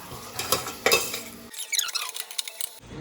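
A spoon stirs sizzling food in a pan as it browns, with close scraping and clinking strokes, then a short moment of metallic squeaking and scraping against the pan.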